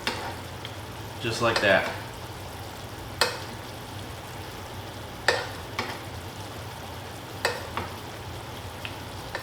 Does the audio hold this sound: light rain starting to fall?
no